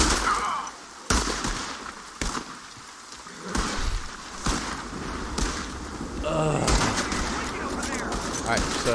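Gunfire in Red Dead Redemption Online: a string of sharp, loud shots at irregular intervals, close and punchy, with game ambience and some background noise between them.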